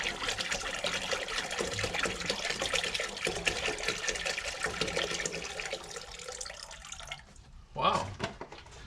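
Water pours steadily into a large 30-litre ultrasonic cleaner tank, a broad continuous rush with a voice talking over it, then it tapers off near the end and a short splash follows.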